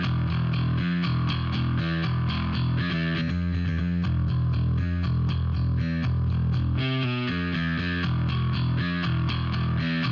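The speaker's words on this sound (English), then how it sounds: "There's a kind of like that slinky little top end distortion." A distorted bass line from a bass plugin playing a steady rhythmic pattern, with a gritty, buzzy top-end distortion on its upper tones, loud and alone.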